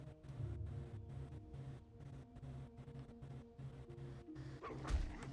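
Dog barking and whimpering in World of Warcraft, repeated yips and short barks over a steady game music bed, with a louder burst near the end.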